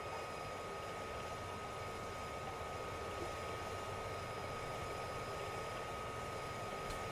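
A steady, droning engine of an armoured vehicle in service with the 15th Armoured Brigade in Afghanistan, running continuously at an even level throughout with no voices over it.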